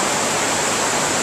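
A river rushes steadily during a rubber raft ride below a castle in Český Krumlov, Czech Republic; the broad, loud water roar fills the short moment without a break, and no one talks.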